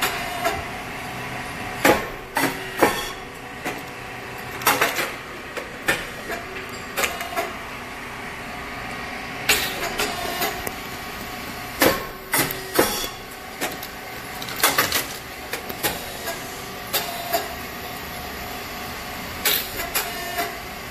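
An SYP5804 triangle rice cake machine runs with a steady mechanical hum, punctuated by regular loud thumping presses and clacks that repeat every couple of seconds in a steady cycle.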